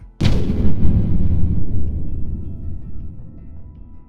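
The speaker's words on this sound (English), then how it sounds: "Artillery rumbles without pause." Heavy artillery fire near the front lines opens with a sharp, loud blast at once, then rolls on as a sustained, deep rumble that slowly fades, with no voices.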